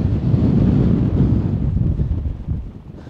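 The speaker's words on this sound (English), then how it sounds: "See how windy it is." Strong wind on a mountain in the Lake District buffets the microphone at a wild campsite in a loud, continuous rumbling roar that eases slightly toward the end, with no voices.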